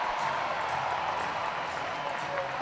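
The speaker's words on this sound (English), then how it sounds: "now the fans are cheering" Hockey fans cheering inside the arena at a Michigan State at Penn State college game, a steady wash of crowd noise and scattered applause, heard from a distance without a clear peak.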